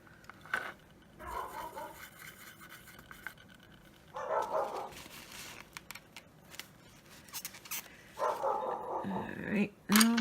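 Dogs bark in bursts from somewhere in a home where someone is painting dot mandalas. The barking comes in several loud clusters and mixes with the painter's speech.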